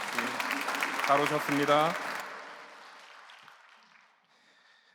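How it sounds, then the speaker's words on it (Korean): Congregation clapping during a Sunday church service: applause starts under a man's spoken welcome, swells briefly, then dies away to near silence. "박수로 환영하겠습니다"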